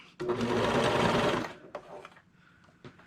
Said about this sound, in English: I just prefer the speed and have the luxury of having a cover stitch. So that's what I'm going to use today.